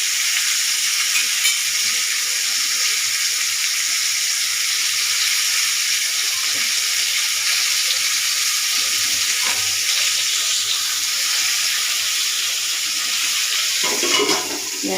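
Food sizzles and fries steadily in a pan on a gas stove turned down low during home cooking, producing a loud, continuous hiss from start to finish.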